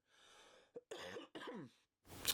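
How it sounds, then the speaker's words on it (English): A man clearing his throat and coughing up close, a few harsh rough bursts separated by short pauses, followed by a sharper noisy burst at the end. "pardon my coughing"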